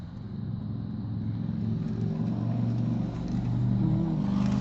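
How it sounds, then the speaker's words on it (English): Early morning road traffic on a weekday, a steady mid-level hum of cars passing with a swelling engine whoosh near the end, no voices. "Early morning traffic."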